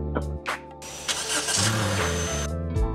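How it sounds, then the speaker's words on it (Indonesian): A Honda HR-V 1.5 SE from 2023 cranks briefly, its 1500 cc engine catches and settles into a smooth idle after a short flare, heard close with a couple of faint clicks before it fires. "Dan sekarang kita coba nyalakan mesinnya."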